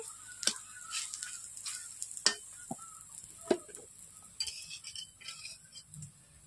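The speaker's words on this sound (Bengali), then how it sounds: "বন্ধুরা দেখতেই পাচ্ছেন আমি লালচে করে ভেজেই নিচ্ছি।" Pumpkin flower fritters fry in oil with a soft sizzle while a utensil clinks and taps against the pan now and then, with sharp scattered clicks over a steady low hiss.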